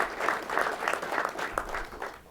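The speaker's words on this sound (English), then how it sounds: "So please give Street Sense another round of applause for all that they've done, and thank them for doing that." Audience at a convention center event applauds in a moderate, fairly distant wash of clapping with a loose rhythmic pulse, heard alone without talking.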